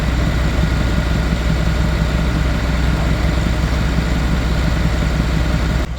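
Farm tractor engine idling close by, a loud, steady low diesel rumble with a rapid, even pulse running unbroken and no voices.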